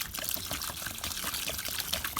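Rainwater splashes and trickles into a bucket holding drywall gypsum and vinegar, a close, steady pouring wash with small bubbling bursts throughout.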